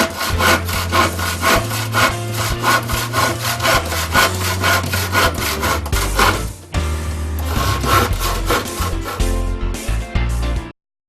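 A used tire is sawn through by hand, with steady rhythmic back-and-forth strokes, loud and close, running continuously before stopping abruptly, with no talking.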